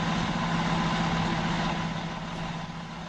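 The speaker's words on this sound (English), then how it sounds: "The pump is now engaged and operating." A fire truck idles with its pump engaged and running, a steady low droning engine hum with constant mechanical whine, close and unbroken.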